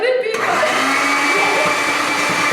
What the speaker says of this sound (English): we don't want to blow the blender up